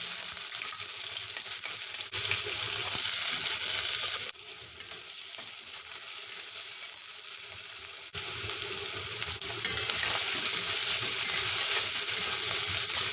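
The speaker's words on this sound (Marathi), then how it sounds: "तेलामध्ये 1 चमचा जिरं घालायचं, थोडं हिंग घालायचं आणि जो चिरलेला कांदा आहे तो त्यामध्ये घालून कांदा चांगला भाजून घ्यायचा।" Chopped onion fries in hot oil with cumin seeds and asafoetida, a loud, constant hissing sizzle that dips briefly in the middle and then swells again, with no talking.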